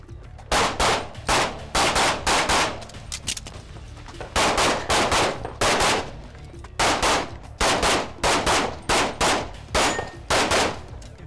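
Rapid bursts of gunshots ring out on a shooting competition stage, each followed by the metallic clang of rounds striking steel targets, in quick rhythmic strings with brief pauses, loud and close.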